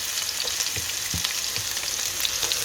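Onion sautéed with coconut in a pan, with cinnamon and cardamom added for a chicken curry, giving a low, steady sizzle broken by a few soft stirring scrapes.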